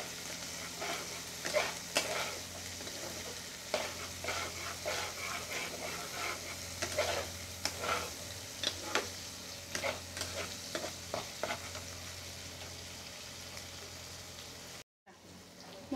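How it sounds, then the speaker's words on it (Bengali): Spice paste (masala) for tangra fish curry being sautéed in a pan, a steady close sizzle broken by repeated scraping stirs of a spatula, fairly quiet and continuous, ending in a short dropout. "খুব ভালো করে মশলাটা কষবেন।"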